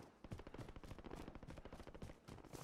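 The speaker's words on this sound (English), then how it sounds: "Boy, there's a lot of gunfire." Distant gunfire in Call of Duty Warzone rattles off in quick, faint bursts of automatic shots, a rapid stuttering volley at low volume with no talk.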